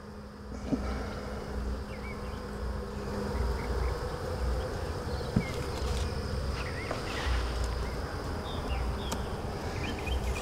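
Honey bees buzzing steadily during a nuc transfer into a 10-frame hive in a backyard, a dense continuous hum close by with occasional light knocks of frames, no talking.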